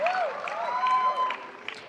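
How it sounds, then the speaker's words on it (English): An award-ceremony audience at the SDI Finals gives a final round of applause with screams and whistles, loud and dense throughout, with voices mixed in. "let's have one last round of applause and a big scream"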